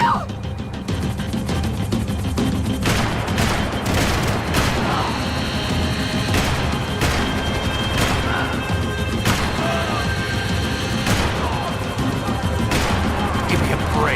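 Gunfire from the video game Max Payne 3: loud repeated shots and crashing impacts burst at irregular intervals over a dense action soundscape, with voices shouting now and then.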